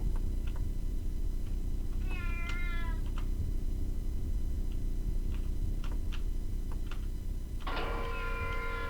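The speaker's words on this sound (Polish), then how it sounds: "Kot gdzieś tu był." A cat meows twice in the video game Shogo over a steady low background hum with faint ticking, the second meow longer and louder.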